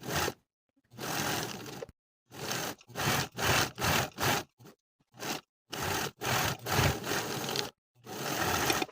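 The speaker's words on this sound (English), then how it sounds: "Sew each seam all the way around with a 1/2 inch seam allowance." A domestic sewing machine stitching cuff seams on a sweatshirt runs in a string of short, close bursts separated by brief pauses, steady and rhythmic with no talking.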